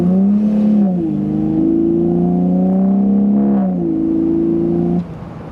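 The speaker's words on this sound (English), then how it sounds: "listen to the exhaust" A decatted BMW Z4 E85 with automatic gearbox in sport mode revs its exhaust, a loud, steady droning note that climbs and settles in several stages before cutting off near the end.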